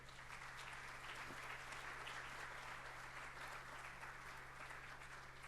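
An audience at a forum claps continuously at an even level, a dense patter of many hands with no voices over it.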